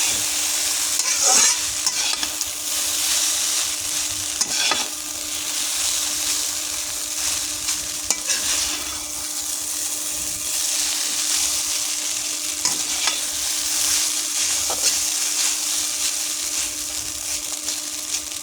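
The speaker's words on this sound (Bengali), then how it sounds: "এবার আমি সবগুলো ভালো করে মিশিয়ে দেবো" Noodles are stirred and tossed in a frying pan, making a loud, continuous hiss and sizzle broken by regular scraping and clattering strokes of the spatula, with no voices.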